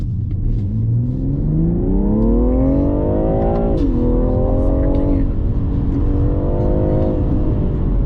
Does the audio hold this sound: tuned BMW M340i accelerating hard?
yes